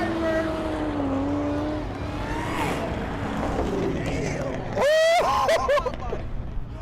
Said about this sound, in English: Hellcat, you hear that supercharger?